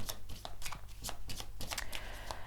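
Tarot cards being shuffled by hand for a card reading, a quick run of crisp riffling slaps and flutters in close succession, nearby and fairly loud with no talking.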